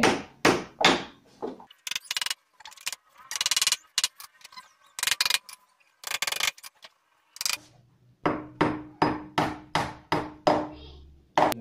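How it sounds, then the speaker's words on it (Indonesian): Nails are hammered into a damp, moldy wall during a repair, with sharp, loud hammer blows in quick rhythmic runs separated by short pauses, close to the listener. "kita langsung paku aja"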